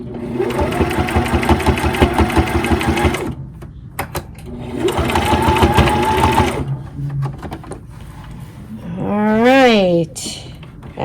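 A home sewing machine stitches pot holders in two long, steady runs of rapid mechanical whirring, close and loud, broken by short pauses, clicks and a brief voice.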